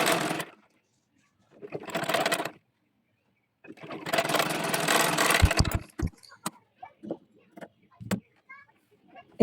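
A sewing machine stitches the sleeve of a baby dress made of gauze cloth in three whirring bursts, the last one longest. Scattered clicks and handling taps follow as the fabric is adjusted.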